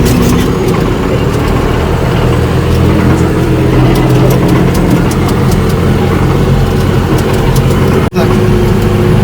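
A loud 105-horsepower John Deere 5105 tractor engine runs steadily at a constant low rumble, close by, with faint voices underneath.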